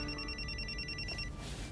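A new mobile phone rings indoors with a bright electronic trill that repeats for about a second and then cuts off under a low background rumble.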